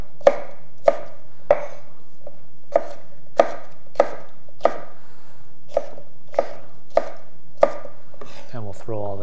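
Knife chopping half a red pepper into cubes on a cutting board, about a dozen crisp, evenly spaced chops, close and clear with no talk.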